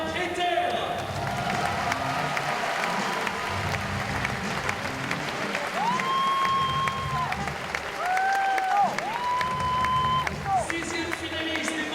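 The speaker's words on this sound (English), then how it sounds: "Applaudissements, s'il vous plaît" Crowd at a world championship climbing final in Paris applauding a finalist, steady broad clapping and murmur throughout, with a voice over the PA and brief tonal sounds partway through.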